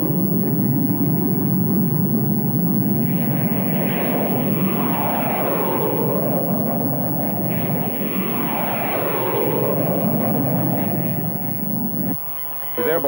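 Air Force test flight aircraft climbing away, a loud, continuous engine roar with a slowly rising and falling whine over a heavy rumble, dropping briefly near the end.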